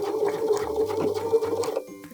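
A sewing machine back stitching a leather or vinyl wallet, a short steady mechanical whir with a rhythmic stitching pulse that stops abruptly near the end, heard up close and fairly quiet.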